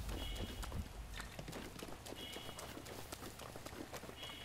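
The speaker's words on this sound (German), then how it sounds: "lass mein Pferd in Ruhe, lass Gerti in Frieden." Horse hooves clip-clopping at a steady running gait in The Legend of Zelda: Breath of the Wild, a continuous rhythmic patter of game hoofbeats with faint background sounds and no talk.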